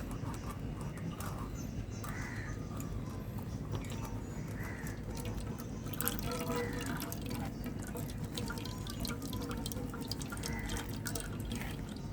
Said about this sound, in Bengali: ঠান্ডা জলটা ওর মধ্যে দিয়ে দিচ্ছি